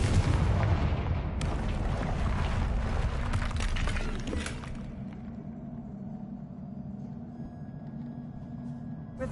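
Fire spell explosion in Hogwarts Legacy, a loud booming rumble that roars at the start and slowly fades to a low lingering crackle and hum.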